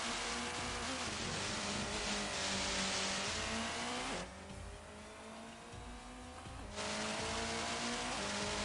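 A rally car racing in the video game Colin McRae Rally, its engine droning loudly with gear shifts and revs, tires hissing over the surface, dipping briefly midway before surging back, with no talking.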